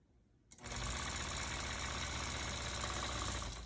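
A long-arm quilting machine stitching a disappearing nine-patch quilt starts up abruptly and settles into a loud, steady mechanical whir and rattle that runs continuously.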